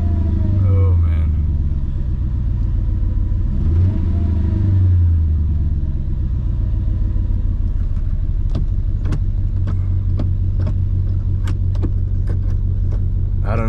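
Mercedes C55 AMG engine idling with a steady low rumble close by, a slight irregular feel to the running, with sharp metallic clicks or key jingles scattered through the second half.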